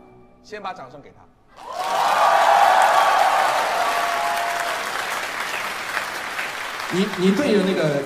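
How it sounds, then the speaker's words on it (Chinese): Audience applause fills a concert hall during a choir show with a suona player, a loud sustained wash of clapping and cheering that rises after a brief spoken word, then fades slightly as voices return near the end. "先把掌声给他"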